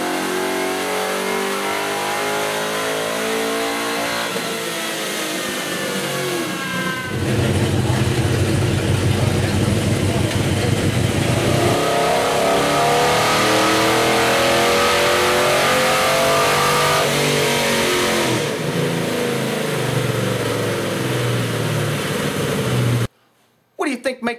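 A car with an LS3 V8 engine revs hard on a dyno, a loud sustained roar that climbs and falls through the pull, then cuts off abruptly near the end.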